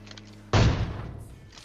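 A loud, close gunshot from PUBG Mobile with a sharp thump, then a decaying rumble that fades over about a second. Faint gunfire sounds before it.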